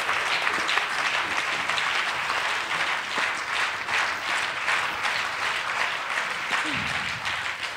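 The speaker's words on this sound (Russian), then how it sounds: "Йонас Ют, Швейцария, ваши аплодисменты." Sustained applause from a concert hall audience at a gala concert for competition laureates, an even, dense clapping that carries on steadily throughout, with a brief low vocal sound near the end.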